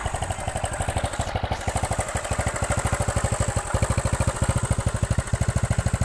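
Yamaha Mio scooter with a smoking exhaust idling steadily up close, a loud, even putter of rapid engine pulses running throughout with no talk.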